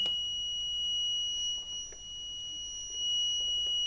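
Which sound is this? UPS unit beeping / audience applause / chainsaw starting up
UPS unit beeping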